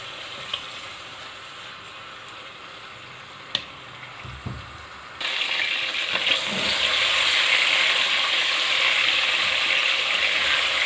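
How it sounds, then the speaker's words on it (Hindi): Marinated chicken drops into hot oil: a quiet stretch with a couple of utensil clacks gives way to a sudden loud, close sizzle that swells and holds as a dense, continuous hiss. "अब इस ऑयल में इस चिकन को हम फ्राई कर लेंगे"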